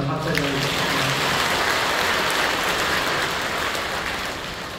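A church congregation applauds during a worship service, dense steady clapping filling the room for several seconds, fairly loud and sustained, fading slightly at the end.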